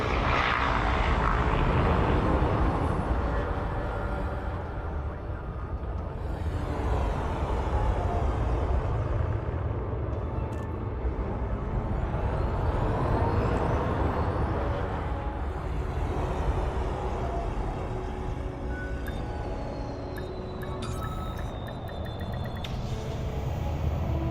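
A spaceship in the video game Elite Dangerous settles onto a landing pad with a loud, steady engine roar and rumble, thrusters whining and hissing as it touches down, with no talk.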